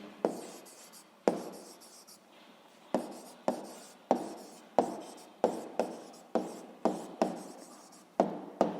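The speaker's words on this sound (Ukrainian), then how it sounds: "Ну що ж, записуємо відповідь. Пишемо відповідь." A pen writes on paper in a quiet room, with a series of short strokes and taps in an uneven rhythm, close and soft, with no talk.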